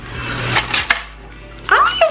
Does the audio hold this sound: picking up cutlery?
yes